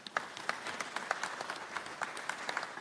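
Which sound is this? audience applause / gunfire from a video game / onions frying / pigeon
audience applause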